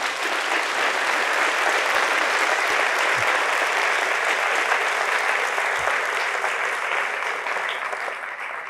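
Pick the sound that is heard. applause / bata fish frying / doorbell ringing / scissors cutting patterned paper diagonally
applause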